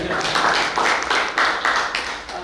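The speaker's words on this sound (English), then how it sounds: "Give yourselves a clap as well." Audience at a business chamber's evening event clapping together in a loud, steady burst of applause, rhythmic clap pulses rising and falling close by with no talk over it.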